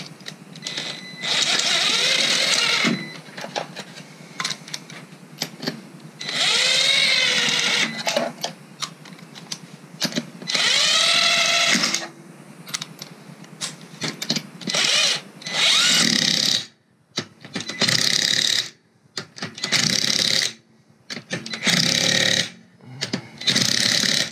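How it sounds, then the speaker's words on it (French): Impact wrench running nuts onto adjustable Maxpeedingrods coilovers on a Toyota Supra in a garage: loud, close mechanical whirring and rattling bursts of a few seconds each, broken by short pauses and quick stop-start blips near the end. "J'ai toujours peur d'enquiller des écrous à la péteuse."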